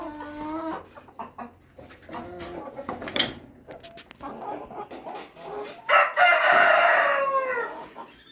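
Brahma rooster in a farm pen crowing twice, close and loud, with hen clucks and other fowl noises around it.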